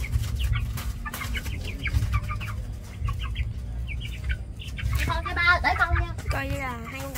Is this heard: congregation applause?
no